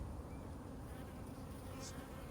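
Honeybees hum in a dense, steady buzz at a sunny hive in April, a constant close drone of many insects with occasional individual bees whirring past, no talking.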